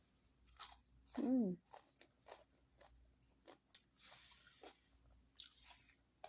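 Close crunchy bites and chewing of a Saudi-style raw leafy vegetable lalab, a few distinct crisp bites followed by quieter mouth sounds, no talking.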